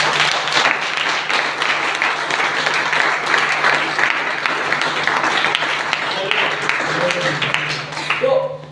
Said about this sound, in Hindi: एक बार जोरदार ताली बजाएंगे प्रभु के लिए।